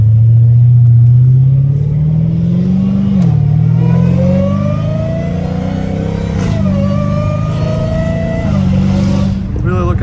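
Dodge Hellcat Redeye with a catless catback exhaust, loud and close, revving hard through rising pitch sweeps with brief dips between pulls, the engine roaring continuously the whole time.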